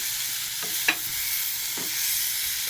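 Food is stirred in a hot frying pan, a steady bright sizzle broken by a few short scrapes from the utensil, close and without talk.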